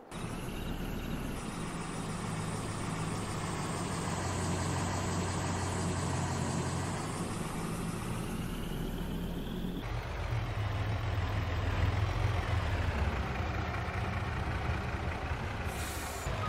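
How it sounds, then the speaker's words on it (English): A Chevy 5500 landscape truck idles in Farming Simulator 22, giving a steady, loud low engine rumble that runs unbroken throughout, with a slight change in tone partway through and no talking. "then we could get the Chevy 5500 landscape truck out"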